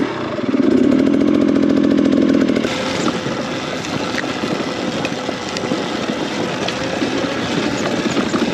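A motorbike ridden on a bush trail near a burnt cabin gives a loud, close, steady engine drone for about two seconds, then a rough, rumbling engine and road noise that continues without a break.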